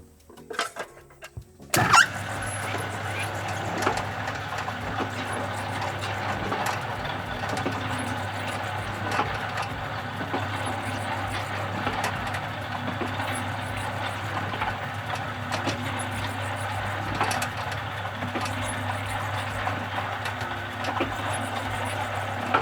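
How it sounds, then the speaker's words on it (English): A diesel engine powering a water pump starts up and settles into a steady, loud idle with a constant low hum and a busy mechanical rattle that carries on throughout. "So I will start the engine now, and you can have a look at the stroke"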